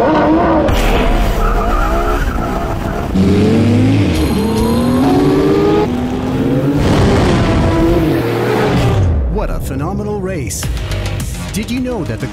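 A Porsche Carrera GT and a Porsche Panamera race hard, with loud, continuous tire squeal, skidding and revving engines up close, while a voice talks over much of the action.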